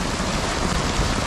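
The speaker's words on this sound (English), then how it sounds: "Sudden downpour." A sudden heavy rain downpour in Florida near a storm drain under railroad tracks roars as a dense, continuous hiss of rain on surfaces, loud and steady throughout.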